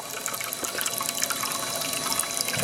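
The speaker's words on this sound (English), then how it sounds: "I pull my straw up real high so I can squirt water in there" Water squirted from a sniffer bottle with a raised straw into a small plastic gold trap, a steady close splashing and trickling wash that runs continuously without pause.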